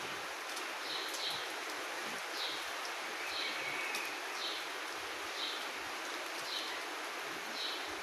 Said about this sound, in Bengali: দেখেন কত সুন্দর বৃষ্টি হচ্ছে।